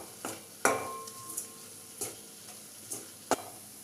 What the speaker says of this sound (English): This time we have to mix it carefully as we should not get lumps.